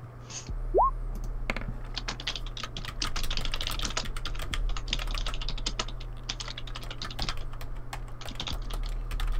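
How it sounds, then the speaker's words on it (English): Computer keyboard keys click in quick, irregular bursts during an online tabletop role-playing session, light and fairly close over a faint steady hum. "I'll move the phone so you don't hear my keyboard."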